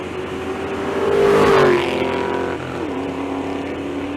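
A 2001 Mustang drag racing car accelerates hard down the strip, engine revving up loudly and then dropping as it shifts gears, close and steady with no talk.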